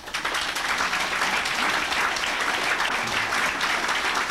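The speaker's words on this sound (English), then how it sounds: "Let's try to limit our applause so that we can be sure to get through the entire debate." An audience at a congressional debate applauds in a steady, even spread of clapping that holds at moderate level throughout, with no voices over it.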